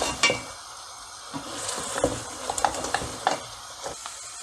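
Sheep trotters fry in oil in a pot while a spoon stirs them, giving continuous sizzling broken by repeated scraping and clinking knocks of the spoon against the pan.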